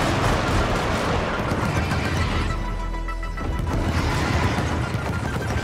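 Rapid gunfire from the Helldivers video game, dense overlapping bursts with a mechanical neigh-like creature sound and broad noisy texture, loud and continuous throughout with a brief dip midway.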